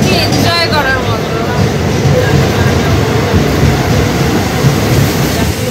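Train running through hilly country near Agartala, a loud continuous low rumble and rattle of the carriage heard from inside, with faint squeals early on.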